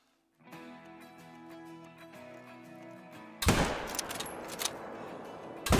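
A single loud, booming .338 bolt-action rifle shot in the hunting game Call of the Wild cuts in over sustained musical tones and leaves a long, rolling echo.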